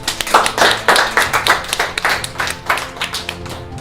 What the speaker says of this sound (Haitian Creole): D'accord, on l'applaudit.